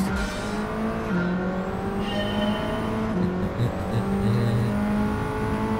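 Race cars on the Suzuka circuit in Gran Turismo 7: a high engine note drones steadily and shifts in pitch as the cars accelerate, with several cars layered together and loud throughout.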